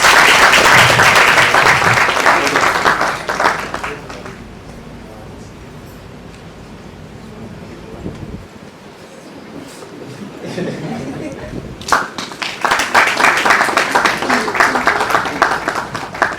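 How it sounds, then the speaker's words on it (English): An audience applauds at a 2019 GIMPA moot court award ceremony, loud clapping that fades to a quieter stretch with murmured chatter before a second strong burst of applause. "A round of applause."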